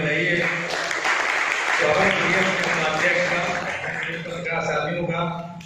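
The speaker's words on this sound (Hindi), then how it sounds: "जरा थोड़ा तालियां बजाइए" A seated audience at a Republic Day gathering at a press club in Moradabad claps in a steady, moderate wash lasting several seconds, with voices talking over the applause throughout.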